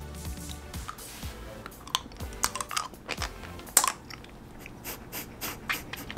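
Salt candy chewed up close, a run of crisp crunches and small clicking bites, irregular and fairly quiet.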